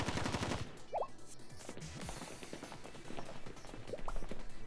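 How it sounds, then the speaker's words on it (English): Rapid bursts of gunfire and machine gun fire from the video game Blue Archive, dense repeated cracks at the start and scattered shots continuing through a busy mix of game sounds. "we heard gunshots. What's going on?"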